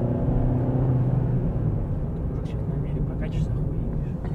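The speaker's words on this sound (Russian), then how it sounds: "Мотор, в принципе, ну, он так довольно-таки громко работает, тоже на высоких оборотах" A Ravon R4 car engine drones loudly and steadily at high revs, with a constant rumbling whir and a person talking over it in Russian.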